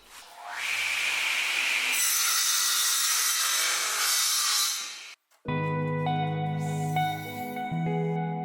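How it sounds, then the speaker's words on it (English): Scrap wood planks are sawn to length with a power saw, a loud rasping cut lasting several seconds, then a brief pause before the blade tone rings again. "I began cutting to length all the planks for the walls."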